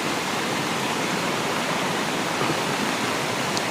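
River water flows steadily and close by, a continuous full rushing wash with no pauses or voices.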